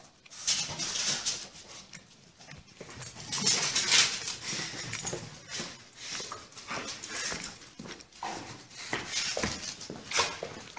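Dog whimpering and moving about while being let out toward the street, with short whines and scuffling scattered over about ten seconds; faint bird calls and household clatter are in the background.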